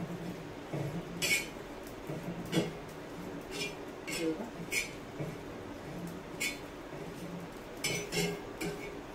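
Dried fish, dry Kokani kardi roasted without oil, is stirred in a pan, with repeated metallic scrapes and clinks of a spoon against the pan at an irregular rhythm, close and fairly quiet.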